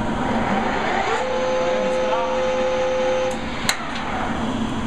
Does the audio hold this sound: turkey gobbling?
no